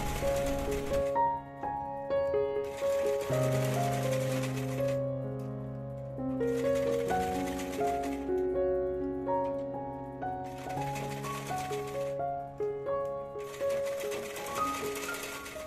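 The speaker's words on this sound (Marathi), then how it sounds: "डबल शिलाई मारून घ्यायची आहे नेकवर." A sewing machine runs a double line of stitching along the neckline of a one-year-old girl's fabric frock, in several short whirring bursts separated by pauses, under steady background music.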